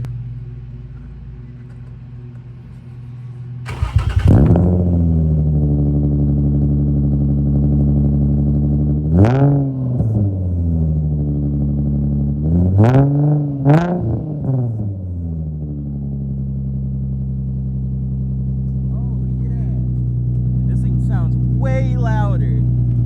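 An Infiniti G35 with a VQ engine and freshly installed Berk resonated test pipes fires up with a sharp start, settles into a loud steady idle, then gets several quick throttle blips that rise and fall, close to the car.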